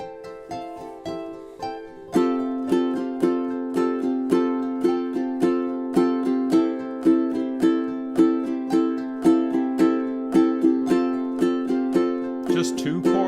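Ukulele strummed with a basic repeating pattern over two chords, even rhythmic strokes throughout, close and bright, a softer picked opening before the strumming starts, no voices.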